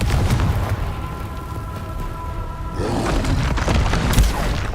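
A Confringo spell explosion in Hogwarts Legacy sounds as a dense, loud booming rumble that swells again midway with crackling bursts, amid continuous battle noise.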